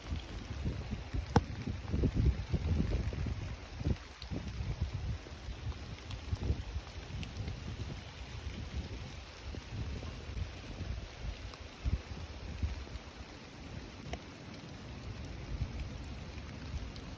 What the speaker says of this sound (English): how like windy and rainy it was